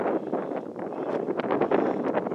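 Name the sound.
strong wind outdoors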